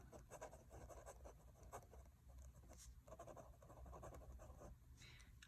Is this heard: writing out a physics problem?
yes